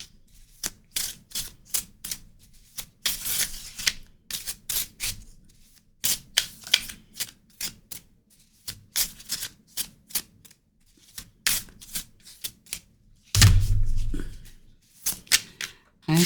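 Tarot cards shuffled by hand close up: a long series of quick, crisp papery riffles and soft slaps, coming in irregular bursts with short pauses between them.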